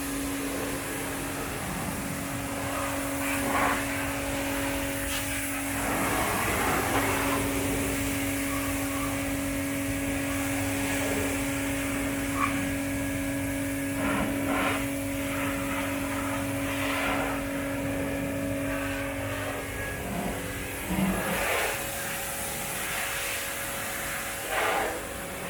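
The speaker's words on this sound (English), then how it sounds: "Tyler's playing with our new toy, the pressure washer, and we're giving the Disco 4 some love" A pressure washer cleans a Land Rover Discovery 4 parked up on ramps, producing a loud, steady droning hum with a constant tonal whine and intermittent spraying hiss as the jet hits the body.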